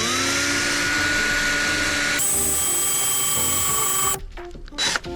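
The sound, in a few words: power drill drilling a wooden batten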